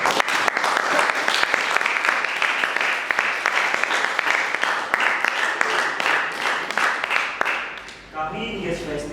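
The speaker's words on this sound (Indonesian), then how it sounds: "Mari kita berikan tepuk tangan yang meriah sekali lagi." An audience at the close of an event session claps in a lively, dense burst that holds steady for about eight seconds, then dies away quickly as a voice starts.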